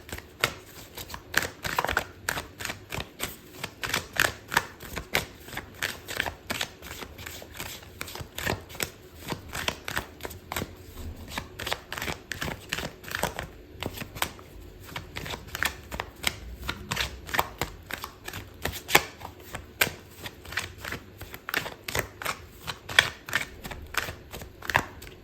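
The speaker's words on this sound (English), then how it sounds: "I'm gonna pull out another card for you" Tarot cards are shuffled in a long, steady run of quick papery riffles and flicks, close and crisp. The rhythm stays even for the whole stretch, with no voices.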